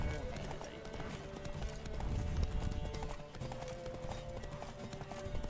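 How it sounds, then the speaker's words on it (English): Horse hooves gallop in a steady clip-clop rhythm in The Witcher 3 video game, close and continuous beneath busy game sound and music, with a person talking over it. "O cavalo tá andando em zigue-zague, velho."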